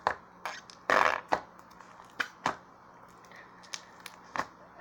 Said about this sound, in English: let's see if it can make fart noises